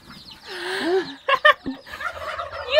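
Turkeys gobbling near newly hatched chicks on a farm, a close, loud burst of rapid gobbles with a couple of sharp throaty calls, surrounded by softer warbling bird sounds.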